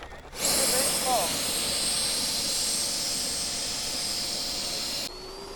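A model jet aircraft's turbine engine roars steadily at high power on reverse thrust after landing on an airfield, loud and sustained before cutting down near the end, with no talk over it.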